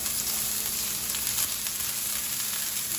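Onions and garlic frying in hot olive oil in a pan, a constant loud close sizzle with bright crackling that stays even throughout, no talking.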